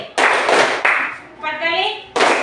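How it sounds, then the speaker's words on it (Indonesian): A classroom group claps twice in unison, two sharp crisp bursts in quick succession, then a voice speaks before one more clap lands at the end. "Tepuk 2 kali."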